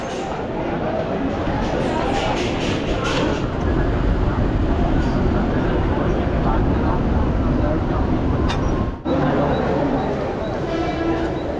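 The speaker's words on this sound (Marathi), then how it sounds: "आता आम्ही अंधेरी रेल्वे स्टेशनला उतरलो" Mumbai local train at Andheri railway station, giving a loud, steady rolling rumble of carriages throughout, with a brief break near the end, while voices talk nearby.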